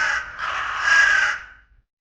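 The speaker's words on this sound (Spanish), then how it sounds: "A medianoche llegaron los cuervos." Several crows caw harshly at midnight from a rooftop, a dense run of rough, overlapping calls for about a second and a half before cutting off into silence, fairly close and alone without talk.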